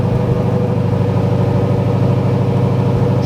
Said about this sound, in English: I'll give it some revs and it'll get worse.